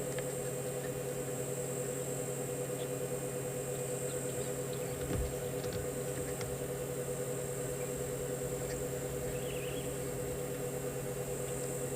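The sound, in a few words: cicadas calling on a South African safari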